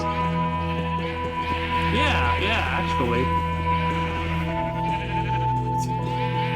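Sheep in Minecraft bleat in a short cluster of wavering cries over steady background music, with a brief spoken remark from a player nearby.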